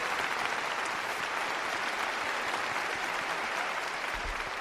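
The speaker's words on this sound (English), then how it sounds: "You ready with the applause?" Steady applause from an audience, a dense, even patter of clapping that runs throughout at moderate, slightly distant level with no break.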